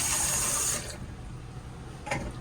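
Water runs steadily from a stainless steel sink faucet in a Forest River Salem Hemisphere Elite fifth-wheel RV, a constant close splashing hiss that softens slightly partway through, with no voices.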